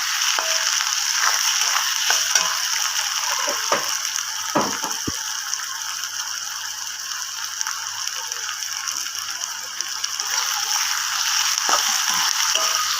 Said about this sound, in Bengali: আমার পেঁয়াজটা কিন্তু হালকা ভাজা ভাজা হয়ে গেছে